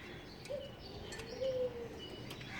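A domestic pigeon in a home coop where it has hatched chicks gives two faint, low cooing calls, one soft and short and a longer one a second later, over a steady quiet background hiss.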